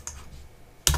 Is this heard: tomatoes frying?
no